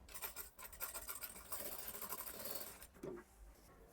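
A sewing machine runs close by with a fast, even stitching rattle as it sews a Sabyasachi-style blouse, briefly slowing near the end before running on quietly.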